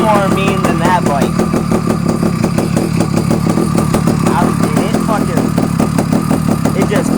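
Bajaj Avenger motorcycle engine rumbling steadily at idle, a loud, continuous low throb close to the mic for the whole stretch, with someone talking over it.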